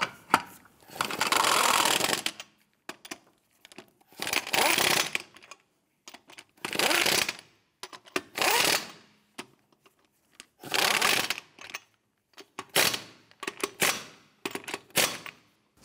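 Lug nuts on a 2008-2013 Nissan Rogue snugged down with a power tool: several loud, close bursts of rapid rattling impacts, each lasting one to two seconds, separated by short silent gaps.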